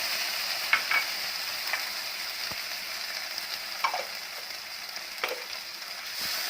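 Green chili and ginger-tomato puree frying in a pan after browned onions for a potato and fava bean sabzi: a constant loud sizzle broken by a few scraping stirs of a spoon, near and alone.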